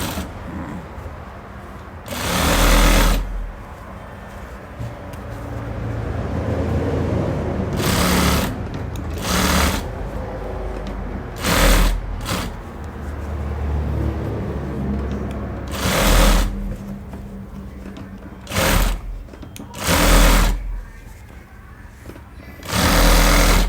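A sewing machine stitches over the elastic waistband of stretchy trousers, running in loud bursts of several seconds separated by pauses, close up with no talking.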